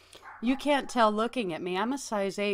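Dogs bark at a cat in short, loud yips and bow-wows close by, overlapping someone talking throughout.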